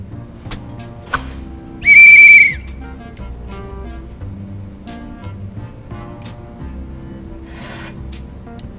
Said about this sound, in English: Someone lost a whistle in front of the police station.